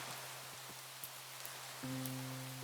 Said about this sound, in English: We can't really enjoy as much while it's raining in this world